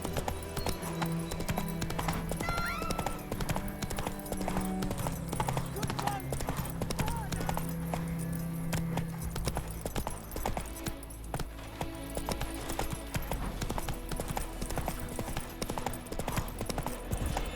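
Horse galloping with steady hoof clip-clop in The Witcher 3: Wild Hunt, a rhythmic drumming that runs the whole stretch under voices, music and ambient game sound, with a brief whinny near the start.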